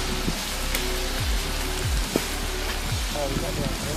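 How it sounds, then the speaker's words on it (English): Light outdoor rain on an overcast day, a steady close hiss of drizzle with a few faint low rumbles mixed in. "It's gonna be raining all day, just light sprinkle."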